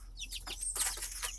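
Young chicks and chickens being kept apart from the flock while they heal, clucking in a busy overlapping run of short calls with some chirping over steady background noise.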